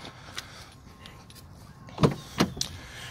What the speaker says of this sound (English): lift up, and then let down, and that's how you release the emergency brake